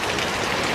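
Heavy rain pours down across a garden, a dense, loud, unbroken roar of drops hitting surfaces, with no voices.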